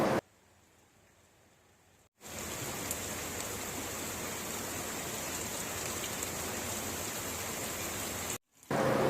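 Monsoon rain falls in Jamshedpur, a steady, even hiss of heavy rainfall that cuts in abruptly after a quiet stretch, runs unbroken for about six seconds, then stops sharply before resuming briefly.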